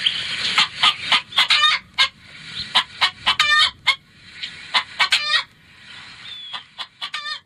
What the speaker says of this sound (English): That's the sound of a territorial chicken